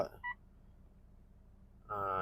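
Dashboard notification beeps in a 2022 Mitsubishi Triton 2.4 S-Limited pickup, a short two-tone chime near the start and a longer tonal chime at the end, separated by quiet cabin hush.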